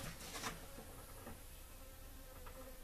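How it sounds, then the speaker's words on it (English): A large bee buzzes indoors inside an RV, a faint, wavering drone that comes and goes close by with no talk over it. "there is a bee who has decided to join me, a big bee, who has decided to join me in the RV."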